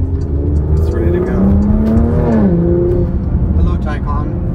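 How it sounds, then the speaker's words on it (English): A Porsche Macan GTS in sport and manual mode revs up hard, engine pitch rising and falling through a gear change, loud and close inside the cabin while someone talks over it. "I did warm up the engine, so it's ready to go"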